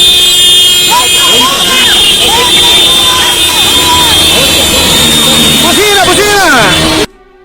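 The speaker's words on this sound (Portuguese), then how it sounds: "Buzina!" Car horns honk repeatedly at a street demonstration walk in Brasília, short toots and longer blasts overlapping amid crowd chatter and shouting, ending abruptly.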